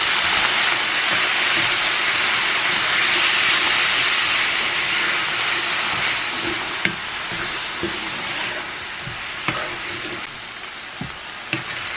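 Onions cooking in a pan, giving a steady broad sizzle and hiss for the whole stretch, with a few small pops and crackles near the end.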